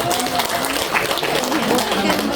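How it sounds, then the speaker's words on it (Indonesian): Applause at a school graduation ceremony for a student medal winner: dense, steady clapping from a crowd throughout, loud and continuous, with some talk mixed in. "Tepuk tangan untuk Wode Nazra"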